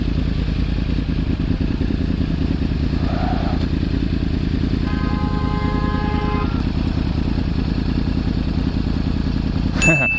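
A motorcycle engine idling with its exhaust, a steady loud rumbling throb held throughout, with a faint tonal ding in the middle and a brief metallic clatter at the end.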